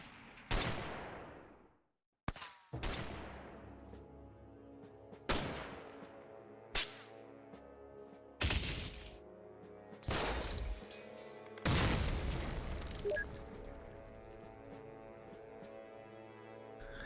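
Gunfire and grenade blasts from the X-Com video game, with about eight sharp separate bursts and booms spaced a second or two apart, each decaying into a ringing tail over a sustained background tone, no talking.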